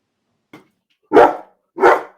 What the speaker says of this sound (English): I'm trying to get him to stop barking.